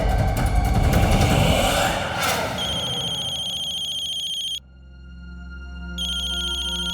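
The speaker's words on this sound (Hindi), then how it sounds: "ये किसका फोन बजा?" A phone rings with a repeating electronic tone, loud and close, briefly cutting out before the ringing resumes.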